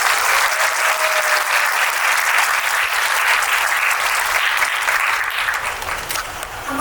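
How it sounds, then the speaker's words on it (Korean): Audience applause at a film GV screening event for the movie Hi-Five, greeting three guests as they enter: a steady, dense wash of many hands clapping that holds for the whole stretch, loud and even with no talk over it. "큰 박수 부탁드립니다"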